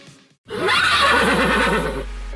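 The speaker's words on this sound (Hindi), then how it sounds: "शरारती घोड़ा।" A cartoon horse gives one loud, close whinny lasting about a second and a half, with a wavering rising-then-falling neigh, preceded by a short quiet moment.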